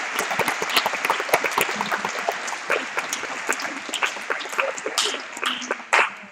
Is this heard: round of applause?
yes